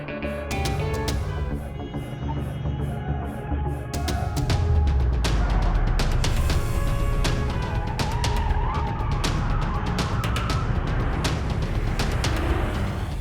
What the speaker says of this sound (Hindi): तुम गाड़ी की स्पीड बढ़ाओ